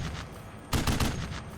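A tank commander's machine gun fires in the Steel Beasts tank simulator: a rapid burst of loud, evenly spaced shots that breaks in suddenly after a quiet moment and rattles on to the end.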